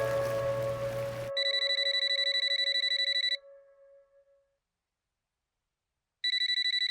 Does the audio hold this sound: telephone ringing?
yes